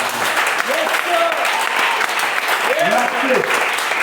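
A church congregation claps and cheers steadily and loudly throughout, with voices calling out over the applause.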